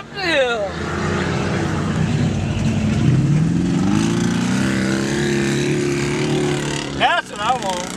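An old beater car's engine and exhaust drone steadily while driving, with a rising and falling rumble as it speeds up a hill, under a person talking over it.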